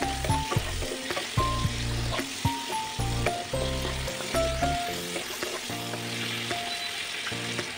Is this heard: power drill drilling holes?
no